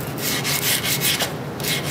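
Steady back-and-forth rasping of fine sandpaper on a body block against a hammer head, rubbing in a regular rhythm of short strokes, close and continuous with no voices.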